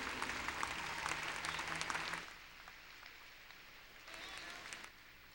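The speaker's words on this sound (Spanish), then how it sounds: "Vamos a recibirlo con un fuerte aplauso en el Señor." A church congregation claps loudly for about two seconds, then the applause drops away abruptly, leaving a quiet room with a short second burst of clapping near the end.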